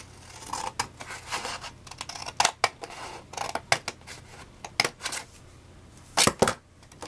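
Scissors snip through paper while cutting a mini album pocket, a run of crisp close clicks and slices in an uneven rhythm with short pauses, no talking.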